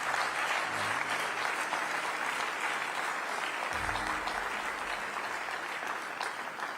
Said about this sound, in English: Clapping until she takes her seat.